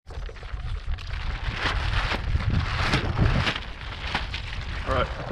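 Gusty wind roars steadily across a stand-up paddle board rigged with a homemade sail out on moving water, a continuous rough buffeting against the microphone throughout.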